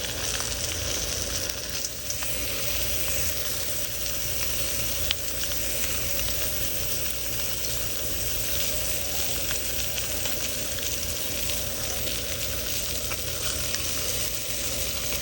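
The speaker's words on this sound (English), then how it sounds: "It's sizzling." Continuous even sizzling of pompano cooking on a hot griddle, close and fairly loud, running unbroken with no voices.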